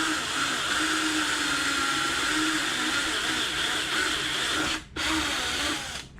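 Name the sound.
power drill driving bolts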